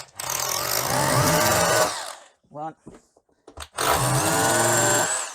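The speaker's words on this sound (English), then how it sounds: "So now I'm going to drill right in the center, and the center over here also." A power drill bores holes into a wall while a radiator is being mounted, loud bursts of whining drilling at the start and end with a brief spoken word and short knocks in the quiet gap between.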